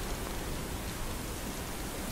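Steady rain in the dark horror puzzle game Limbo, a dense, even hiss with no distinct drops or pauses, fairly faint and with no voices.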